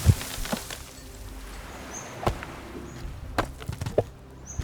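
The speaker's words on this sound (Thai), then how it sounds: "เอาไปตัดไม้" Wood being chopped with an axe in the feudal-Japan survival game Sengoku Dynasty: a few sharp, separate thwacks spaced over several seconds, with faint birdsong and ambient game sounds between them.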